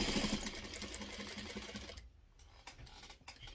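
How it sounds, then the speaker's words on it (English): A domestic sewing machine stitches down quilt binding at a mitered corner, running in a fast, steady whir for about two seconds before stopping abruptly. A few faint clicks and handling sounds follow. "I sew down off of that corner"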